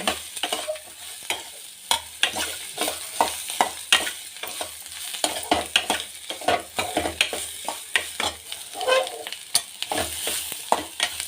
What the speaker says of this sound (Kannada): ಚೆನ್ನಾಗಿ ಅದನ್ನು ಎಣ್ಣೆಯಲ್ಲಿ 5 ನಿಮಿಷಗಳ ಕಾಲ ಚೆನ್ನಾಗಿ ಹುರಿಯೋಣ.